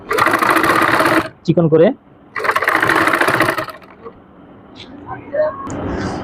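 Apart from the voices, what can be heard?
sewing machine top-stitching trouser fabric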